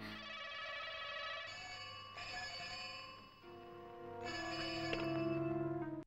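Telephone ringing in a Hindi-dubbed film scene, with repeated bright electronic ring tones sounding over soft background music, fairly faint and steady throughout.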